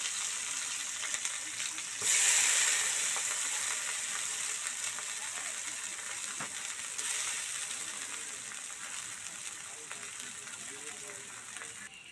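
Taro stolons and fish head hit a hot pan with a loud burst of sizzling frying, which eases into a steady hiss, then swells again briefly partway through.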